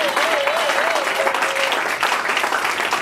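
Church congregation at a Sunday service applauding in a steady, dense wash of clapping that fills the room throughout, with a sustained electronic tone or feedback line wavering briefly near the start.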